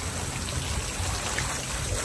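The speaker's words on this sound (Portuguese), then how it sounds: "Olha o tanto de água que sai," Water pours from an outdoor poolside shower in a steady, faint rushing stream, an even splashing wash with no talking over it.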